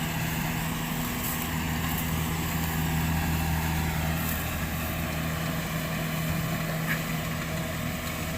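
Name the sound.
Kubota DC70 combine harvester engine running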